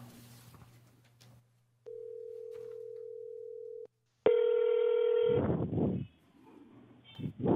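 A phone call connects during a school board meeting, with a steady electronic tone, a brief silence, then a louder harmonic telephone tone followed by bursts of line noise.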